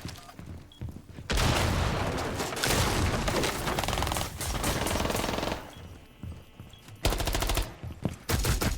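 Sustained automatic SMG-12 fire in a multiplayer shooter, a loud continuous rattle of rapid shots in long bursts with short pauses between them.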